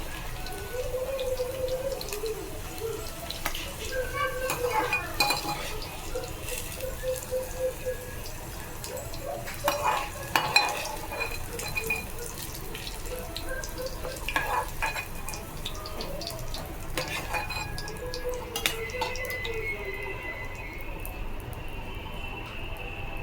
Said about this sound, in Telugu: స్టవ్ వెలిగించి ప్యాన్ పెట్టి అందులో దొండకాయలని ఇలా ఫ్రై చేసుకోవాలి గోల్డెన్ కలర్ వచ్చేంత వరకు